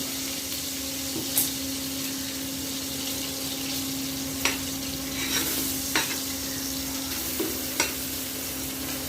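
Onions frying steadily in coconut oil for mutton biryani, a continuous close sizzle with a few sharp pops and crackles scattered through, no talking.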